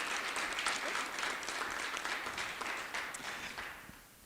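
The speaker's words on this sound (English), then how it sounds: "Let's give them a round of applause." Audience applause at a women-in-tech event, a dense, even wash of many hands clapping that holds steady and slowly fades toward the end.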